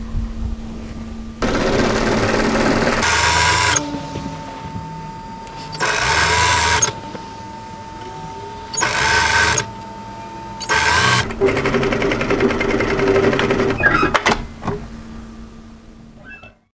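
A sewing machine stitches the side seam of a tee dress in several bursts, some long and some short, with brief quiet pauses between runs. The whirring is steady and close, and nobody speaks.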